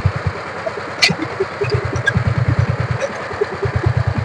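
A DF power tiller, a second-hand 2018–19 machine, runs with a steady low engine chug and rapid regular firing pulses. It sounds close and fairly loud, with a sharp click or knock near the start.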